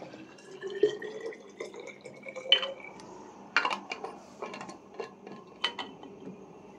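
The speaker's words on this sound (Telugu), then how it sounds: "ఈ వాటర్ బాటిల్స్లోకి నీళ్ళు అయితే నింపేద్దాము అనేసి వాటర్ అయితే నింపుతున్నాను" Water being poured into bottles at home, with soft trickling and scattered clinks and taps of the bottles, fairly quiet and intermittent, with no voices.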